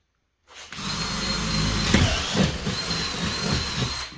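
After a brief silence a power drill with a metal bit spins up and runs continuously, a close, high whine with gritty grinding beneath it.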